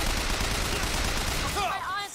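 Rapid gunfire bursts in BioShock Infinite, a loud sustained volley of shots rattling for about a second and a half before tailing off into ringing, whistling echoes.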